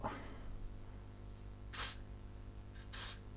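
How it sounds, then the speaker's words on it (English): Two short hissing bursts of contact cleaner spray, the second longer, over a low steady hum. "contact cleaner again, spray a bit"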